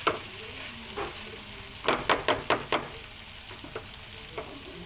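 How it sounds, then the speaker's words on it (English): String beans with pork and oyster sauce are stir-fried, a steady soft sizzle broken by a quick run of five sharp utensil scrapes and taps against the pan, then a few more scattered clinks, with no talking. "this is how I cook my stir-fry string beans with pork and oyster sauce"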